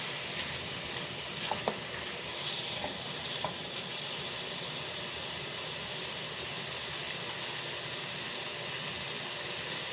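Chopsuey vegetables being stirred in a sizzling pan, a steady loud frying hiss throughout with a few brief scraping clatters of the spatula near the start.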